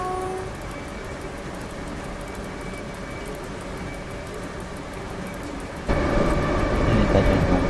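Two EP09 electric locomotives haul a ten-wagon train at night in the MaSzyna railway simulator game. A steady, loud mechanical drone with humming tones carries throughout and swells noticeably near the end.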